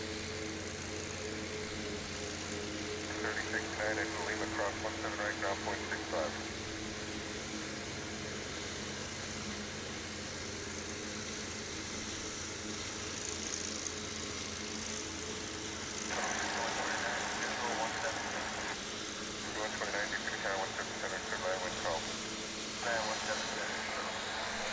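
A Martinair cargo plane taking off at DFW International Airport, a steady far-off jet roar that swells in two longer waves, with a person talking over it.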